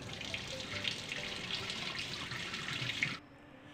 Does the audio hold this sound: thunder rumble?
no